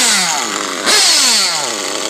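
A modified nitro RC buggy engine sputters and whines as it tries to settle into idle, high buzzing pitch wavering up and down with a brief rev near the middle, close and loud with no talking.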